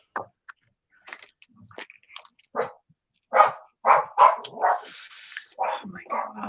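A dog at home barks and yips in a string of short, sharp bursts, close and fairly loud, with quiet gaps between the calls.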